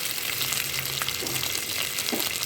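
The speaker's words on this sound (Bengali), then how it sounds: "দেখুন একটু লাল করে ভাজতে হবে কাজু কিশমিশটা" Cashews, raisins and ginger fry in a pan, giving a continuous close sizzle with a few faint stirring touches.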